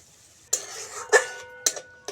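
Ground turmeric, chili powder and cumin-coriander paste being stirred and fried in a pan for a vegetable curry, giving three short, quiet scraping clatters of a utensil against the pan with near-silence between them.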